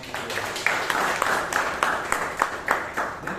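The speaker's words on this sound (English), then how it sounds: "So once again, a round of applause for Asal Ram." Audience members at a Bangalore Toastmasters club meeting clap for a speaker, with scattered sharp hand claps standing out over a lighter bed of applause, moderately loud and steady throughout.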